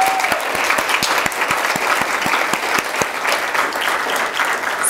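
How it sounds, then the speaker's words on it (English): Sustained audience applause after an evening lecture on ergonomics by Dr. Peter Crane, steady dense clapping from a room full of people, loud and continuous throughout with no talk over it. "giving another big round of applause for Dr. Crane"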